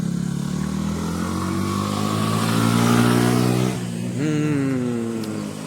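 Yamaha R15 motorcycle engine revving up loud and close on a hillside road, rising in pitch, dipping briefly, then climbing again in a strong, steady roar with no talk over it.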